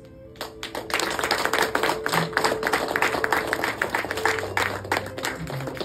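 Wedding guests applauding steadily, a dense wash of many hands clapping at close to medium range that builds quickly and holds for several seconds, with a faint voice briefly underneath.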